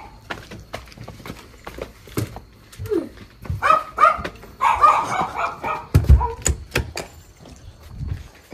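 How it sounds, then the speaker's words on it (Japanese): A nearby dog barks several times in short bursts, mixed with thumps and shuffling movement. "ワンワン言うとるもんな"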